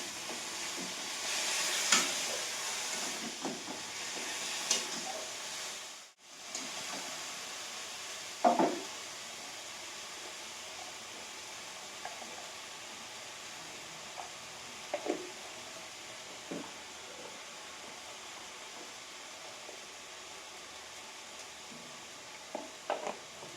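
Spices fry and are stirred in a pan for a Bengali home-cooked meal, giving a soft, steady sizzle with occasional scrapes and taps of the spoon against the pan.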